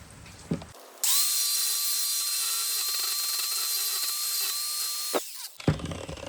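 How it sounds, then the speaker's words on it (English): A power tool sanding down a wooden climbing hold, a loud steady whining grind lasting several seconds, starting abruptly and cutting off with quieter handling noise around it. "So we're gonna sand that down, get rid of this sharp edge, and make this a nice fine grit."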